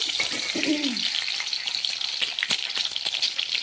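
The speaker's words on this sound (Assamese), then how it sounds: "তাতে এতিয়া মই কণীকেইটা ভাজি লওঁ" Eggs frying in oil in a wok give a close, steady sizzle with repeated crackling pops, and a brief voice-like murmur occurs early on.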